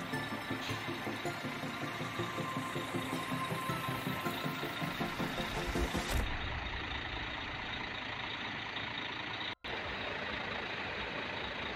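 A Mercedes-Benz OH 1836 bus idles at Terminal Poris, its engine a steady, close diesel rumble with a rhythmic pulse that shifts to a smoother drone partway through.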